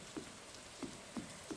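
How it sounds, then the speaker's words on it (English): Rain in a farming video game: soft, faint drops patter under a quiet background hiss, with a few sparse, separate ticks that land irregularly. "Oh, another rainy day, yay!"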